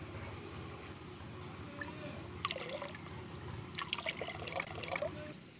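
Pesticide mixture of Rogor dimethoate and fipronil insecticide diluted in water, poured into a bucket in two short splashing bursts, soft and close against a quiet background.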